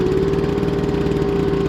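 A small two-stroke leaf blower engine runs steadily at idle after a carburetor adjustment, a close, continuous buzzing drone with no break and no voices.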